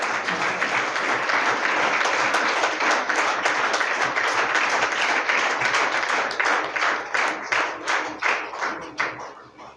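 Audience at a school general knowledge competition prize ceremony applauds with steady, dense clapping that fills the room, then thins into separate, slower claps toward the end.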